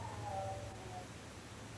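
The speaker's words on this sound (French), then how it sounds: "on entend clairement ce chat faire sa sérénade" A tomcat in heat yowls in a haunted place: one drawn-out, wavering wail that rises and then fades within about a second. It is moderately faint over a steady low hum, with no talking.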